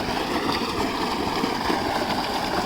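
Water from a 20 hp solar tubewell beside the River Sutlej gushes at full pressure in a steady, rushing splash that stays constant and close.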